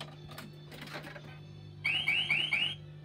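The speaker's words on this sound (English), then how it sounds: "So it's giving me exactly the same alarm code as it did before." A coin-operated meter sounds an electronic alarm after a coin goes in: four quick, shrill, rising chirps in a row, close and fairly loud over a low background hum, preceded by faint clicks and handling noise.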